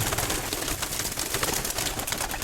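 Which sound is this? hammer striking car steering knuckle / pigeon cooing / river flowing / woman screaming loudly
pigeon cooing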